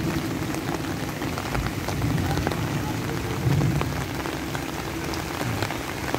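Steady rain falling on a surface outdoors during a delivery run, a dense continuous patter with scattered louder drops and a low rumble beneath, no talking.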